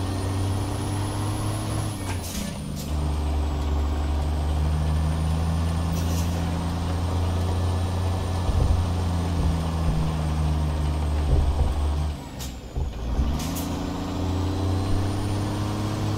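Dump truck in American Truck Simulator on quarry hills, its engine droning loud and steady with two clear gear-shift dips where the revs drop and climb again.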